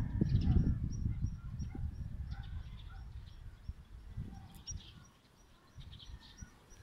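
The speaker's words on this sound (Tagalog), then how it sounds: "Ang daming ibon dito." Many birds calling around rice fields in Nueva Ecija, a busy scatter of chirps and squawks at varying distances over low rumbling background noise, fairly faint overall.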